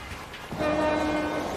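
A train sounds its horn at a railway station, a steady two-tone blast that begins partway in and holds loud to the end over rumbling station noise.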